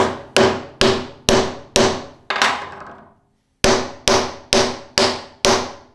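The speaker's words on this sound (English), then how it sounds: "Let's try some fine joinery taps." A metal hammer striking timber in fine joinery taps, giving sharp regular knocks: five evenly spaced taps, a pause, then five more at the same steady pace, close and loud.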